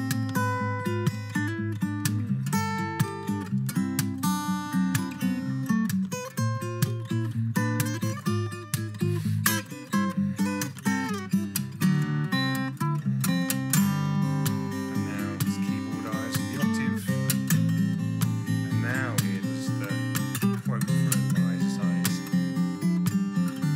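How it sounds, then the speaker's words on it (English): Acoustic guitar plays a counter-melody in a songwriting arrangement, bright plucked melodic notes over fuller strummed chords, continuous and steady throughout at a moderate level with no talking. "So the counter-melody sounds like this."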